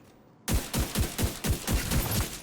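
Sniper rifle fire in a shooter video game: after a brief quiet start, about eight sharp, heavy shots ring out in rapid succession, each with a booming low thump.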